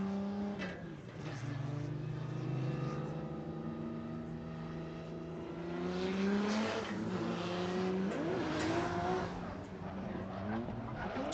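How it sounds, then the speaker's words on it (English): Drift race cars with turbocharged engines rev and scream through qualifying at Willow Springs, California, rising and falling engine pitches layered with tire squeal and skidding, loud and sustained throughout with no speech. "Turbos are spooling."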